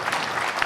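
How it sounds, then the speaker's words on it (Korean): A brief burst of clapping from a church symposium audience, moderately loud and steady throughout. "우리 박수 한번 드리겠습니다"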